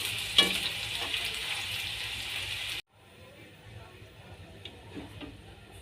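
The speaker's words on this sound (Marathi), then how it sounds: "इथे आपण हे छानपैकी मस्त याला तळून घेणार आहोत आलूंना" Potatoes deep-fry in hot oil over a high flame for potato chivda, a dense bright sizzle with a sharp clatter near the start, then it cuts abruptly to a much quieter stretch of faint bubbling and ticks.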